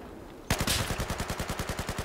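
Sustained automatic gunfire from the video game Battlefield 4, a rapid evenly spaced burst that breaks in abruptly after a quiet half-second and keeps firing close and loud to the end.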